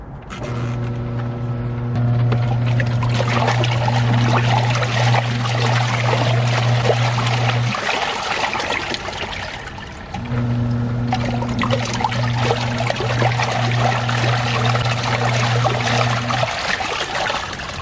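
A Costway portable washing machine running on RV solar power hums loudly while water sloshes and pours inside the tub, running in two long cycles with a short pause between them.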